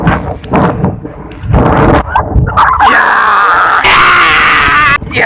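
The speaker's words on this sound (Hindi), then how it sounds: "अरे कौन भौंक रहा है ये बदतमीज।" Dog barking and yelping outdoors on a jungle road during an electric scooter ride, sharp repeated calls at close range with groan-like whimpers, mixed with rustling noise and a brief voice.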